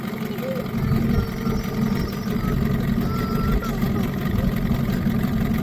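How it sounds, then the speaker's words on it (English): A 1971 Starcraft boat's 15 hp outboard motor idles low in gear, a steady close rumble running unbroken throughout with no voices over it. "I have the idle down as low as it'll go with the tiller handle"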